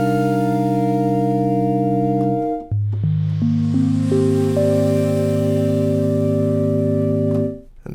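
Serum 2 synth preset layering a sine wave with a Savannah granular flute sample plays a sustained chord, then shifts to a lower chord as notes enter one by one, breathy airy texture on top, clean and loud with no talk.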